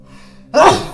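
A single sudden sneeze bursts out loud and close after a quiet stretch of faint background voices, during a tabletop role-playing game session.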